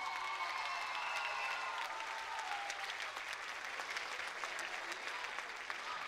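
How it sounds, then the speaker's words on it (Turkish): A studio audience at the Popstar singing competition applauds a contestant, a steady dense wash of clapping with a faint crowd murmur and some tonal sound underneath throughout. "Bir alkış daha alalım Hüseyin'e"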